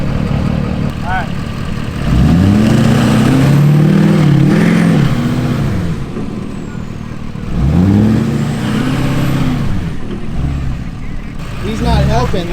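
A pickup truck revs and strains off-road in the desert, its engine surging loud in two long pulls, then dropping to a rough idle between them, with someone talking over the noise.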